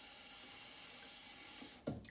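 Water runs steadily from a tap into a sink while soaps are being compared, a constant close hiss that ends with a louder splash near the finish.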